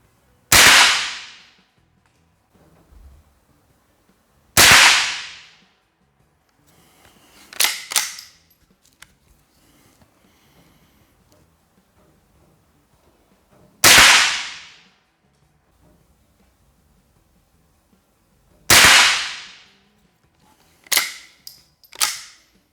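A Rossi pump-action carbine fires at a target, producing five sharp, loud reports spread several seconds apart, each ringing out briefly. Quieter mechanical clacks of the action being worked fall between some of the shots, and there is no speech.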